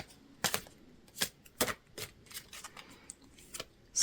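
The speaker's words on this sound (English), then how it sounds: "So let's shuffle." Tarot cards are shuffled by hand in a series of crisp, separate riffling snaps and flutters, close and fairly quiet, with short gaps between bursts.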